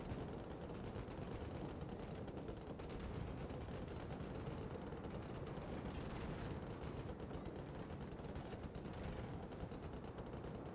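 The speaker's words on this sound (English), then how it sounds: "Listen to that AA go." Rapid, continuous anti-aircraft gunfire from a Fuso battleship in a naval combat video game, a dense unbroken rattle of shots with heavy low rumble, loud and steady throughout.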